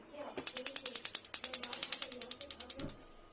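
A gas compressor machine chatters with a rapid, regular run of ratcheting mechanical clicks for about two and a half seconds, fairly loud and close, with a faint high hiss above.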